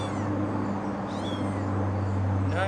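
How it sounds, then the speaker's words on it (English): A fluffy kitten gives soft, small chirping, cricket-like calls, faint and close, over a steady low background hum with no speech. "it makes little cricket noises."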